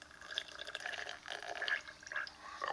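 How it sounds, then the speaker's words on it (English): Bubbles blown through a straw into a glass of drinking water, a soft irregular gurgle and bubbling that runs continuously and close up for a few seconds. "Are you blowing bubbles?"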